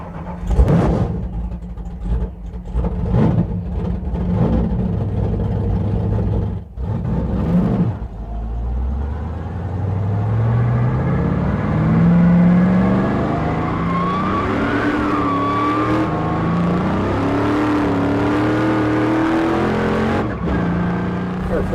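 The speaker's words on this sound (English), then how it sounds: "Car 462 now underway on course 1." A land speed race car runs on a salt flats course. Its engine rises in a steady, climbing whine as it accelerates away over some twenty seconds, after earlier loud passes and roars.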